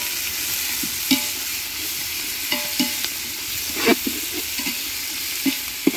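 Green chillies, tomato and onion fry in a pan with a steady broadband sizzle, punctuated by scattered spatula scrapes and stirring knocks, close and moderately loud with no voices.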